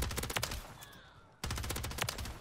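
Loud, close bursts of HRM 9 submachine gun fire in Call of Duty: Modern Warfare III, a rapid rattle that breaks off briefly and then resumes as fast automatic fire.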